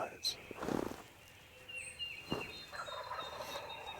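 Wild turkey gobblers gobbling in Kentucky woods at first light, a few distant rattling gobbles rising faintly over quiet morning ambience, with soft nearby movement.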